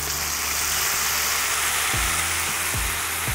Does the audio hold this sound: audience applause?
no